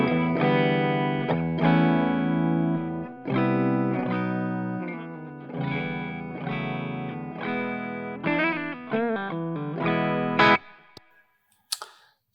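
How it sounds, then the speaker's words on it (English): A 2014 Epiphone Les Paul Custom Pro electric guitar on its bridge humbucker, set as clean as possible, playing a steady run of ringing chords and notes for about ten seconds, then a few brief scraping string noises as the playing stops. "Bridge pickup, and this is as clean as I can get it to make a sound."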